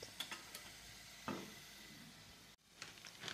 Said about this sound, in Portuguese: E aqui eu vou deixar essa pancetta fritar.